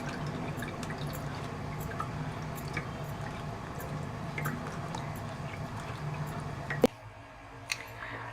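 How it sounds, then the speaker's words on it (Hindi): Fresh orange juice strains through a sieve in a kitchen, giving faint, close drips and wet trickling with a small clink near the end. "ये अच्छी तरीके से मैं इसको छान लूँगी।"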